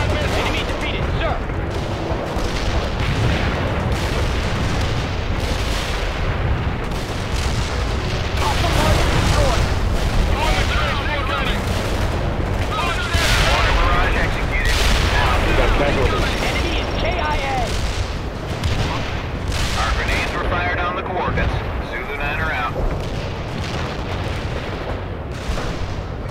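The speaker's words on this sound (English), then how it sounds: "Fire mission received. Putting rounds on target." Artillery rounds pound a target in World in Conflict during a fire mission near a freeway bridge: a dense, unbroken barrage of booming impacts and crackling gunfire rumbles steadily for the whole stretch.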